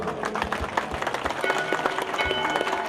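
A crowd applauds at a church fundraising auction in Skrebatno, steady mid-distance clapping that keeps going throughout, with a voice speaking over it.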